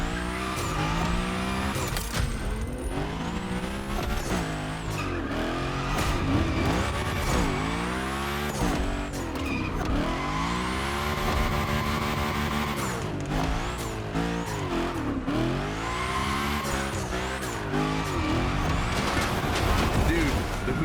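Hoonigan drift car in The Crew Motorfest racing game, engine revving up and down in repeated swooping pitch sweeps with squealing tyres and skids, loud and continuous, with someone talking over it.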